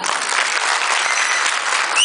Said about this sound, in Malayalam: നിങ്ങൾ തന്നെ നല്ലൊരു കൈയടി കൊടുക്കുക